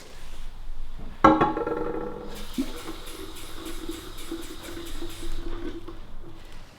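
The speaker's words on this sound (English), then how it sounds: "And I'm going to top that up with water so it can really soak." Water from a tap pours into a vase after a splash of bleach, starting with a sudden gush then a steady, continuous fill sound that fades out near the end.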